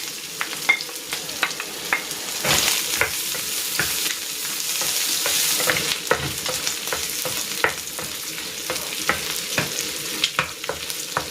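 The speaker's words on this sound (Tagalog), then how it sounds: "Ihigisa ko na dito itong bawang. At itong sibuyas." Garlic and onion sauté in a pan, a steady bright sizzle broken by repeated scraping stirs and clicks of a utensil against the pan, close and continuous, with no talking.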